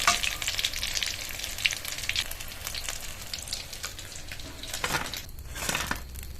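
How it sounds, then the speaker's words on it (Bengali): Fish frying in hot oil, a dense close sizzle with crackling spatter that swells and eases, plus a few brief scraping and clattering touches against the pan, no voices. "বাকি মাছগুলো একইভাবে দিয়ে ভেজে নেব"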